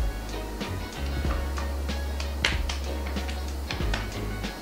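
Hands patting toner onto facial skin, a series of soft, irregular slapping taps heard up close, some quick and clustered, others spaced out, over a faint low hum.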